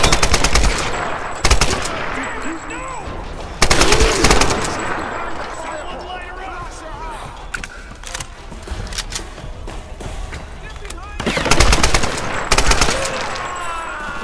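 Assault rifle fire rattles through the video game Tomb Raider in several loud, rapid automatic bursts separated by quieter stretches of game ambience, with a voice talking in between.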